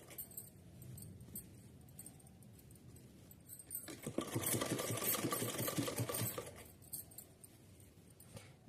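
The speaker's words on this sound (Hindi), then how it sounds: "यहाँ एकदम सीधा ऊपर से सिलाई लगा लेना है। तो चलिए सिलते हैं।" A sewing machine runs in a steady whirring burst while stitching a drawstring casing on a small doll's dress, starting after a few seconds of quiet handling and stopping near the end, close and alone without speech.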